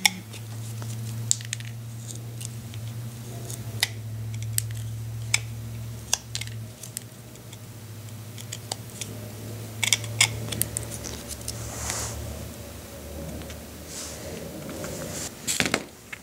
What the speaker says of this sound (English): I'm going to continue with another stab cut here with the chisel and pop out that chip